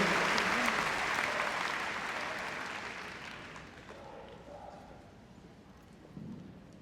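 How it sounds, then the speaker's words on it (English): Audience at the Crufts 2016 agility jumping heat applauds for a dog and handler finishing their run, a broad crowd wash that is loud at first and gradually fades, with an announcer's voice over it. "Give them a round of applause"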